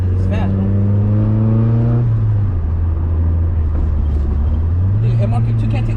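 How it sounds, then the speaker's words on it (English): An Audi racing another car surges with loud, close engine drone, its pitch rising and shifting through gears over a steady rumble, while a voice talks over it. "I'm gonna race this Audi, bro. It's fast"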